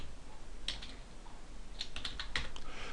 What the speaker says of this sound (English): you see when I type switch port